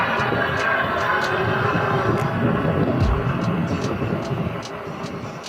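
Steady whirring hum of a 750 W Mate Bike X electric bike riding on throttle, with wind noise rushing over it and no talk.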